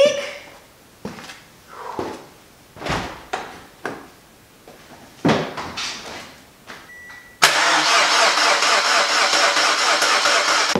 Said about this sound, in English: put the key in, prime the fuel pump, let fuel come into the injectors, and then hopefully it starts up